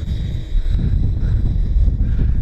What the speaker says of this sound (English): Yeah, it is windy out.